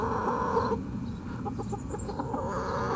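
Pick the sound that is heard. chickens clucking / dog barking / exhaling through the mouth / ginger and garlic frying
chickens clucking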